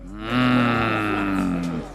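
A single loud, drawn-out cow moo used as a sound effect, with a deep tone sustained for nearly two seconds before tailing off.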